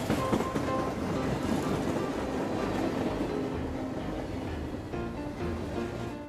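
A double-decker train rolls past, a steady, loud rumble of wheels on rails with a rhythmic clatter and metallic squeal running throughout, no voices over it.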